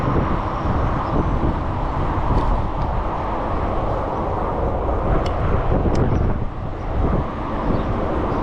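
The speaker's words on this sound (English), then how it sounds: "Got a little breeze coming out of the east like we did yesterday, and kind of more in my face right now than it is behind me." Wind roars in a dense, rumbling rush against the microphone while riding a Blix Sol Eclipse e-bike on pedal assist into a headwind, steady and loud throughout with slight surges.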